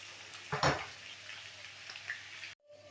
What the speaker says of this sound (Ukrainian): Картопля у мене вже досмажується там.